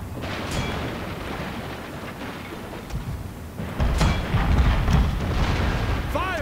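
Ships' guns pounding a copper-plated wooden ship in a Fall of the Samurai naval battle, heavy booming volleys and rumbling impacts growing louder partway through, with a voice talking over them.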